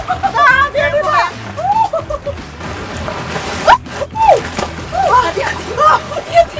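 Ocean waves wash and splash along a shore during a traditional Larung Saji offering, making a rough, continuous sloshing wash under excited, overlapping voices of people calling out nearby.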